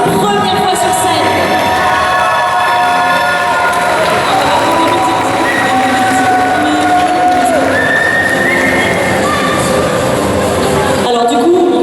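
Audience cheering, whistling and shouting for the first-prize winner at the Summer Geek Festival 2024 cosplay contest results, a loud dense crowd filling the whole stretch before cutting off near the end.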